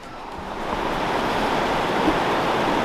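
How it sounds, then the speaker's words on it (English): A waterfall near Bend, Oregon, makes a steady, loud rushing roar that fills the air without a break, a broad wash of falling water heard from close by. "apparently that's the waterfall."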